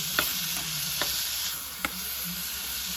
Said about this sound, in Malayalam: ഇനി ഇത് നന്നായിട്ട് ഇളക്കിയിട്ട് മിക്സ് കൊടുക്കാം